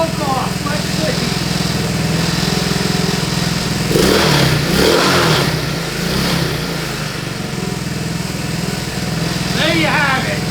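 The engine of a Chinese ATV runs with the choke off after a carburetor repair, a loud, close, steady mid-pitched putter with a brief rise in revs partway through and a voice briefly heard near the end.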